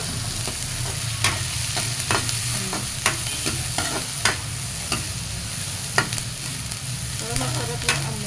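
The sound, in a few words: sautéing bay leaves and peppercorns for chicken adobo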